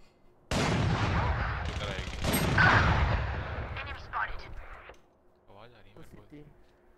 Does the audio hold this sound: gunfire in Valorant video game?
yes